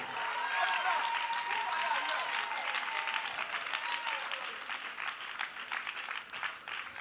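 A church congregation breaks into sustained applause for the Lord, a dense, fairly loud wash of clapping from many hands that continues throughout, with a voice and some tonal cries rising over it early on.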